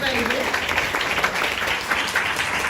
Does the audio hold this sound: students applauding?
yes